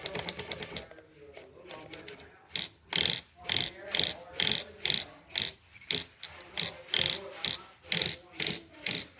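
A GX brushless 42 kg high-voltage servo running on 7.4 volts sweeps back and forth, giving a steady rhythm of about a dozen short, sharp whirring bursts with brief pauses between them, close and fairly loud.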